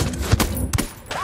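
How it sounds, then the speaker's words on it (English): Gunfire in the video game Ghost Recon Wildlands, a few sharp, loud shots in quick succession with heavy low thumps, close by and without talk. "Opening fire on these fuckers."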